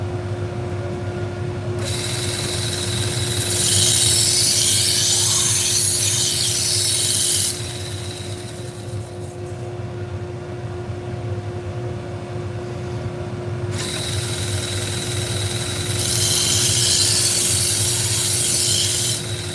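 A power sharpener grinds a pitted, nicked blade in two long bursts of broadband rasping with a pause between, close and loud over a steady background hum.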